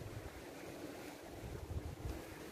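Wind gusts at Hac Sa beach in Macau, a steady low rushing roar with soft surf underneath, swelling slightly near the end, with no voices.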